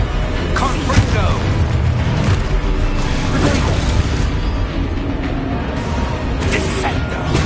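A Confringo blasting spell explodes in Hogwarts Legacy, a burst lost in a dense, loud wash of continuous game effects and rumble with no clear separate bang.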